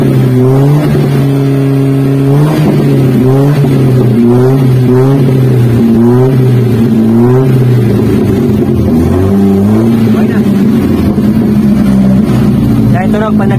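An owner-type jeepney fitted with an 18-inch scav muffler revs repeatedly, its deep, loud exhaust note rising and falling in stepped pulses close by, with people talking over it.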